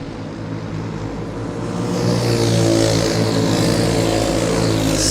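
Racing karts circle a speedway at Golden Spike Speedway in Blue Earth, Minnesota, their engines a constant droning whine that grows louder after the first two seconds as the pack draws closer.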